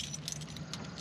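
Car keys jangle and clink in a hand beside a Chevy Nova in a garage, a steady metallic rattle running close and fairly quiet through the whole moment.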